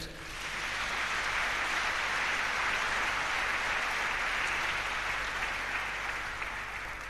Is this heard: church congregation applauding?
yes